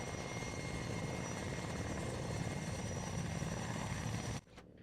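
A helicopter in the military game Arma 3 drones with a steady rotor and engine roar at moderate level throughout, cutting off abruptly near the end, with no speech.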